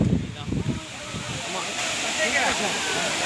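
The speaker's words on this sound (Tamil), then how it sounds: "அந்த அருவி வந்து உங்களுக்கு வந்து நான் இப்போ காமிக்க" A Courtallam waterfall roars as a steady broadband rush, with splashing and a voice briefly heard near the start before the water noise carries on alone.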